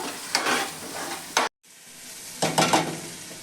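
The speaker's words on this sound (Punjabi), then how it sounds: "ਮੀਡੀਅਮ ਦੇ ਸੇਕ ਦੇ ਉੱਤੇ ਆਪਾਂ ਇਹਨੂੰ ਪਕਾ ਲਾਂਗੇ" Mashed eggplant bharta frying in oil in a pan over medium heat, stirred with a spatula in a few loud scraping strokes over a constant sizzle, with a brief silent gap midway.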